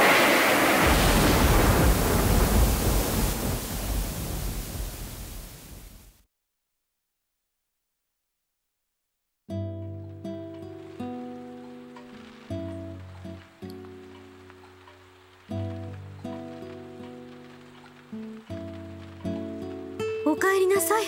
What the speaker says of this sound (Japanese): すごい雨ですね